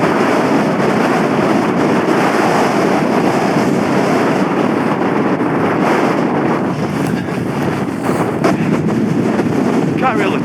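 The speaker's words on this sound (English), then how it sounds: "See, them gusts, they don't really bother this tent too much." Strong wind gusts buffet a tent pitched on a wintry mountain top, a loud, continuous roaring rush with surging peaks and fabric flutter, close to the microphone and without talk.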